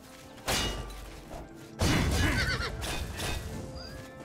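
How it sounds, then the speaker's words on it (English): A horse in the video game Oblivion whinnies loudly twice amid thudding combat hits, its shrill neighs ringing close and clear over the game's background sound. "Dang, the horse has taken half the freaking hits."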